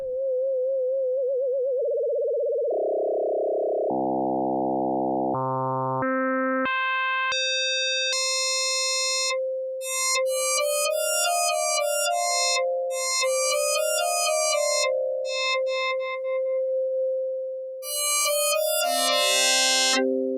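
An FM synthesizer (Korg Opsix) tone shifts through a series of pitches and timbres as its tuning is adjusted, growing brighter and bell-like with chiming overtones, steady and loud with no talking.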